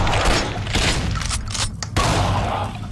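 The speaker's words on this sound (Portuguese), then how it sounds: "é um tiro" Gunfire from the Doom-style first-person shooter Hellhunt bursts in rapid, booming volleys, loud and close, with brief dips between shots and no clear talk over it.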